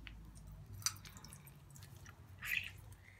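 Lemon juice is added to a chicken marinade of yogurt, gram flour and butter, giving faint, soft drips and a brief wet squish in a quiet room, with no talking.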